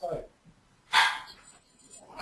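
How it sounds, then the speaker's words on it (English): A domestic dog barks indoors in the distance, a short burst with one louder bark in the middle, faint and isolated between quieter moments. "Ah, there was my dog."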